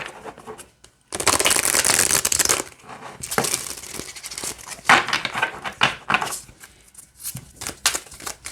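Oracle of E card deck of flexible cards being shuffled, with repeated riffles and bursts of papery flicking and snapping close up, broken by short pauses, with no talking.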